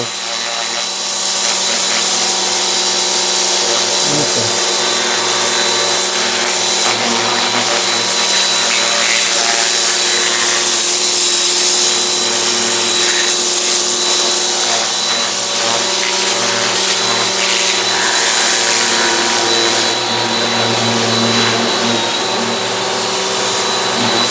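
A loud, continuous motor whine with a high spraying hiss runs throughout, a STIHL pressure washer scaling silver carp, its pitch shifting slightly now and then.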